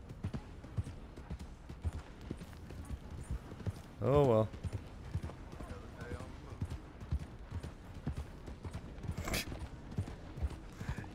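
Steady rhythmic horse hoof clopping in the video game Red Dead Redemption 2 runs throughout at moderate volume, with a brief voice and a few short louder sounds partway through.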